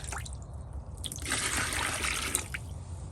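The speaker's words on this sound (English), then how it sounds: "I'm gonna fill this container up with the water." Collected rainwater is poured into a container, giving a close, steady trickling splash that swells in the middle and then tapers off, with no talk.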